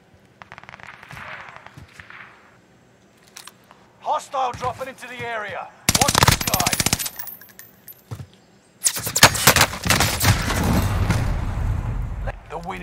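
Bren machine gun in the Warzone video game firing in long, loud sustained bursts, with a shorter burst midway and a heavy stretch near the end; speech is heard early on between the shots.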